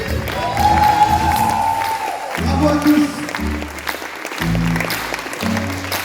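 Audience at a launch event for oyster-farming software cheers and applauds, with broadband clapping and whoops rising under an amplified announcer who speaks over the crowd throughout.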